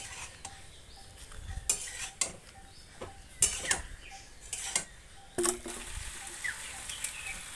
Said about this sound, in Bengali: বাঁধাকপিগুলি নেড়ে চেড়ে একটু সেদ্ধ হয়ে যাক ভালো করে সেদ্ধ হয়ে যাওয়ার পর পাস্তাগুলি দিয়ে এই মশলার সাথে মিশিয়ে নিলাম